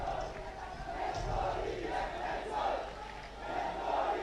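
Spectators at a Sri Lankan schools rugby league match between Isipathana College and D.S. Senanayake College cheer and chant in steady, swelling waves of crowd noise.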